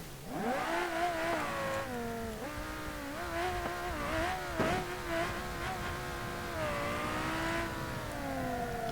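The engine of a Civetta Scintilla GTx car in the BeamNG.drive video game revs and shifts through rising and falling tones, accelerating repeatedly with a smooth, buzzing whine that holds steady throughout and carries no talk.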